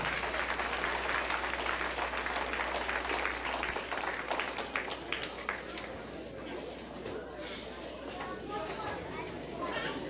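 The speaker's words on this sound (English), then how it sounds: "Let's give a big round of applause to her." Steady applause from a stock show crowd honoring a champion, a broad wash of clapping that fills the whole stretch with faint chatter mixed in beneath.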